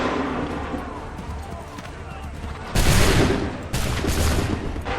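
Musket volley fired on command in the video game Assassin's Creed III: a steady battle din gives way to a sudden loud, broad blast of massed fire, followed by a second burst of shots.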